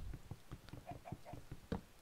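A video game chicken clucks softly in a run of short, quiet, rhythmic clucks and pecking sounds, ending with a slightly louder squawk.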